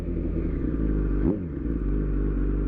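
A 2004 Yamaha R1 sport motorcycle being ridden, its engine a loud steady drone with a brief dip and surge in pitch midway, close and continuous without speech.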